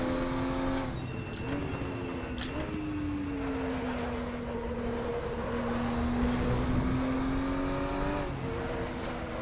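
A Porsche 934 race car engine in the RaceRoom driving game drones steadily, its pitch dipping and climbing with gear changes and rev-matched downshifts, loud and continuous with no talking.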